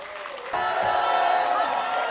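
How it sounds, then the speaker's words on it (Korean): Audience applause and some cheering at a party convention and leadership candidate rally in Daejeon, starting abruptly after a half second and holding as a steady, dense wash of clapping. "힘찬 박수 다시 한번 보내주시기 바랍니다"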